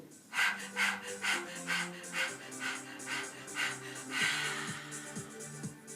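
A person pants in quick rhythmic breaths, imitating a dog, with short voiced huffs repeating steadily for several seconds, close and moderately quiet.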